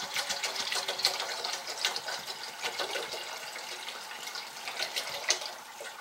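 Water poured steadily into a 3-liter Stanley Basecamp cooking pot, a continuous close, splashy trickling stream for several seconds with no talking.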